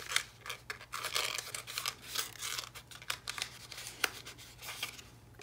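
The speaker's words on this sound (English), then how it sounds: "So you would just fold along those score lines." A paper pillow box is creased and folded along its score lines, giving close, soft crinkling and rustling paper sounds in quick bursts over a faint low hum.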